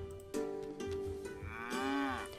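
Cows in the video game Milkmaid of the Milky Way low in two long, drawn-out moos, one after the other, loud and close with no talking over them.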